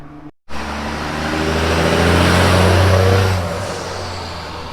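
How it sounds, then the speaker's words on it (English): A car passes close by in a parking lot at a car show, its engine swelling to a loud peak and then fading, after a brief dropout at the start. "you might hear the cars going on in the background"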